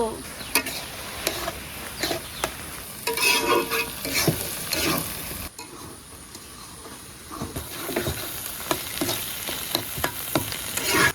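Bottle gourd and egg fry together in a pan, with a loud, continuous sizzle and frequent close scraping stirs throughout, briefly dipping in the middle.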